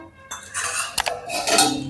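A metal pan lid clatters down over chillies frying in oil, giving a few sharp clinks and scrapes close up amid a soft sizzle.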